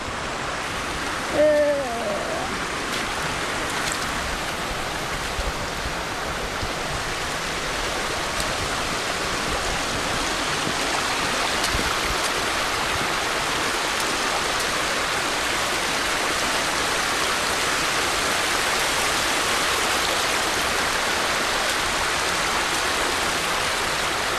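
A forest waterfall and stream near Khopoli in the monsoon rush in a loud, steady wash of falling water that fills the whole stretch without a break.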